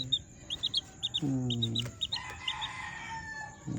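A chicken clucks in short, repeated bursts, with a longer drawn-out call in the middle and high chirps around it.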